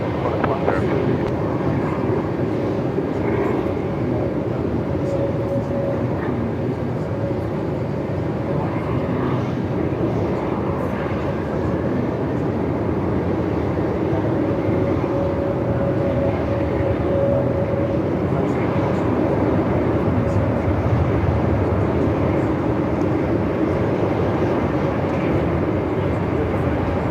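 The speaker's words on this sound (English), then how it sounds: "Qantas 105, runway 34, clear for takeoff." A Qantas airliner takes off from runway 34 at Melbourne Airport in strong wind. Its jet engines give a loud, steady roar that holds for the whole stretch, with radio voices faintly over it.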